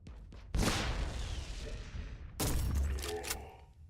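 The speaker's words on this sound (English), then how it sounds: "That was the most charged shot I could do" A charged shotgun shot fires in the video game Warhammer 40K: Inquisitor - Martyr: two loud, booming blasts with long rumbling, crackling tails. The second follows about two seconds after the first.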